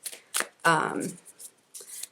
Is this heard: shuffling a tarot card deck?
yes